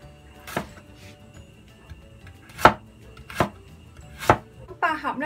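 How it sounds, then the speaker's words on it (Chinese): A knife chops through onion and carrot on a cutting board, giving four or five sharp, separate thunks with pauses between them, close by and clear in a quiet kitchen. "咁红萝卜又切片啦"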